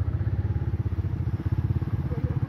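A motorcycle engine while riding on a road trip with a fishing group, with traffic around: a loud, steady, pulsing throb that holds for the whole stretch with no break.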